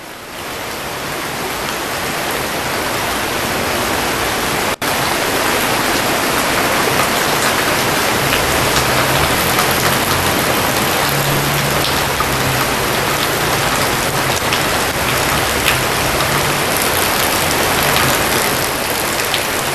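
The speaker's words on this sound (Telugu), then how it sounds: "భారీ శబ్దంతో వర్షం పడడం మనం గమనించాం" Heavy rain pours down on Hyderabad in a dense, continuous roar, loud and unbroken throughout, with a faint low rumble underneath.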